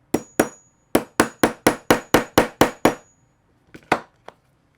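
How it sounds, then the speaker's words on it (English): A hammer strikes a metal hole punch over a small wooden cutting board, about a dozen sharp, ringing blows at a steady rhythm, then a pause and a few lighter taps, close and loud with no talking. "I'm going to take my hammer and the punch and make the hole"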